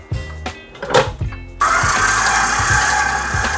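An electric stand mixer whisks cake batter as small pieces of butter drop in, a steady motor whir rising loud and continuous after a few soft knocks and thuds at the start.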